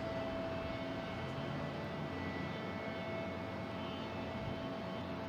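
A JetBlue airliner's engines run at an airport ramp before pushback, a steady broadband whine and rumble with a faint high tone, continuous and unchanging at moderate distance.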